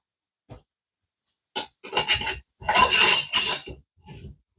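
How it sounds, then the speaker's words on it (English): A lidded jar holding cream mixed with lemon juice is shaken by hand in bursts: a short tap, then vigorous sloshing rattles growing louder in the middle and a final small knock, close and clear with no talking. "And give it a good shake."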